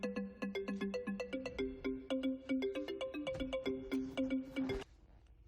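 A telephone ringtone for an incoming call plays a bright repeating melodic pattern of short tones for about five seconds, fairly quiet and alone, then stops abruptly.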